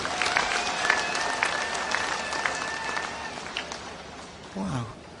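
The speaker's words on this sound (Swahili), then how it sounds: "Tumpigie makofi ndugu huyu." A church congregation at a service held in Busia Stadium breaks into sustained applause, a broad crowd of clapping heard at a distance with a steady roar of hands throughout and no speech.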